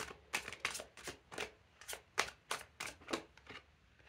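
Tarot cards are handled and drawn, giving a rapid series of about a dozen crisp, close riffling flicks at a steady rhythm, with no talking over them.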